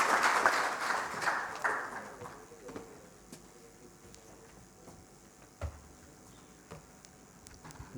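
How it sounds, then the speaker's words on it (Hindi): An audience at the fourth annual Gaatha cultural festival applauds to welcome a speaker, with loud clapping at the start that quickly thins out and fades, leaving scattered claps and quiet room noise. "जोरदार तालियों से स्वागत करते हैं अमित"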